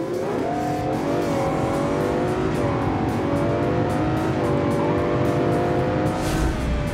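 Pickup truck in the BeamNG.Drive racing game accelerating down a quarter-mile strip, a loud, steady engine roar that climbs in pitch through gear changes, with brief tire noise and no talking.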